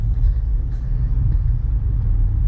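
A 2010 Cadillac CTS Premium Edition cruises on a test drive, with a low, steady engine and road rumble heard from inside the cabin.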